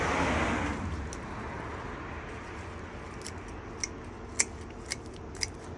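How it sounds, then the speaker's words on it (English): Scissors snip sweet potato vines growing in a container at harvest, a few faint, sharp clicks arriving separately near the end over a steady outdoor hiss. "Snip off these vines so we can find what we've got here."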